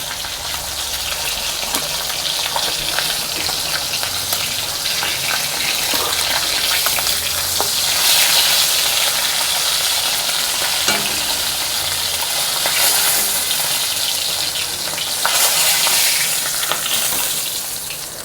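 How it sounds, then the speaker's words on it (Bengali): Pieces of katla fish frying in hot oil for doi katla, with a dense, steady sizzle and crackle close up that runs throughout and swells in places, and no talk. "মাছটা আমার এবার লাল লাল করে ভাজা হয়ে গেছে।"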